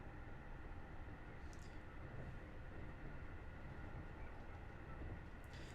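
Conventional train in the Train Drive ATS 3 video game runs uphill, a steady low mechanical rumble and hum with faint rhythmic clatter, continuous and quiet with no talk.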